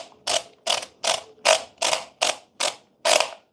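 Aluminum-on-aluminum grind adjustment knob on a Quick Mill Super Quick coffee grinder, turned toward its locked position, gives a run of eight or nine evenly spaced, crisp metallic clicks, close and fairly loud with no voices over it.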